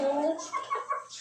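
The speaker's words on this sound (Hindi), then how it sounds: "ये वाली मुर्गी मैं ऊपर इस वजह से लाया हूँ कि यहाँ पर ये ना थोड़ा सा खुला घूमेगी" A hen on a village rooftop gives a few short clucks mixed with a man's nearby speech, in a brief close-up burst lasting just over a second.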